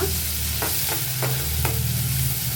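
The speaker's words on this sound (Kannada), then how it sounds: "ಜೊತೆಗೇನೆ ಕರಿಬೇವು. ಸೊ ಹಾಕ್ಕೊಂಡು ಚೆನ್ನಾಗಿ ಫ್ರೈ ಮಾಡೋಣ," Curry leaves frying in a hot pan for a bitter gourd gravy, a continuous close sizzle with a few regular stirring scrapes and no talking.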